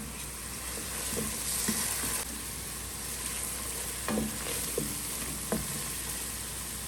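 A paste of pepper, garlic, salt, cumin and coriander is stirred as it fries in a pan, giving a steady hiss with a few soft scraping knocks of the spoon.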